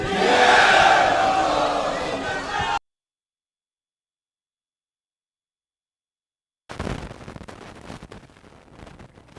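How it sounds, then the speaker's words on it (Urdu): Large political rally crowd in Karachi for the PPP chanting slogans, a loud massed roar of voices at first, then a dead gap of silence, then fainter crowd noise returning. "نعرے بھٹو"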